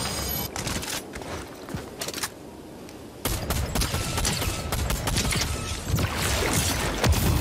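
A goo weapon fires in a video game as a dense, rapid burst of splattering shots, loud and close, with a short lull before the firing resumes even harder.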